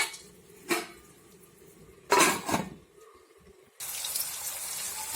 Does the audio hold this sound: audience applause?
no